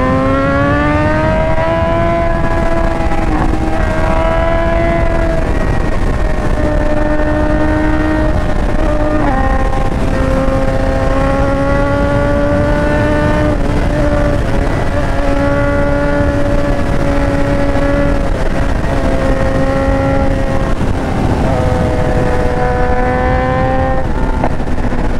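Two motorcycles, a Honda NC 700X and a BMW, accelerate hard on a road toward the Serra de Doutor Pedrinho. Their loud, close engine tones rise steadily through repeated gear changes and run continuously with no talking.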